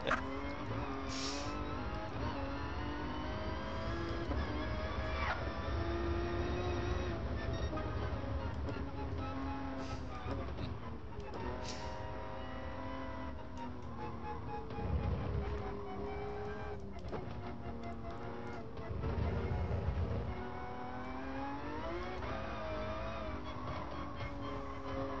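A McLaren F1 or Ferrari 512 race car in the GT Sport video game, engine droning and rising through revs continuously, with shifts, surges and occasional tire squeal over a steady roar.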